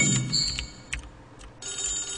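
A telephone rings in a horror video game, with short high electronic rings repeating in bursts over a quiet, faint background.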